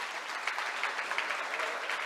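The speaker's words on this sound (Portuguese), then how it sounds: "Você pode aplaudir Jesus?" Church congregation clapping steadily in a brief, dense burst of applause at even loudness, without pause.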